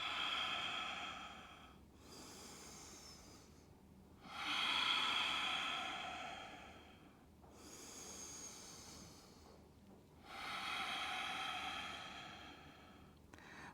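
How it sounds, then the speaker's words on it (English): Slow, deep breaths during a yoga session, each inhale and exhale a long soft airy rush of about two seconds, with four breath cycles evenly spaced and separated by quiet pauses. "And then just slowing the breath."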